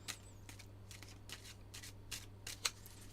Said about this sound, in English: once I shuffle this up and draw a hand.